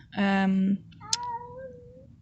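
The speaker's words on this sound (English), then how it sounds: "There's a cat." A cat meows close by in a workshop while an upholsterer fits red Furflex trim in a Rover P4, giving one loud, sustained meow followed by a softer, rising second call.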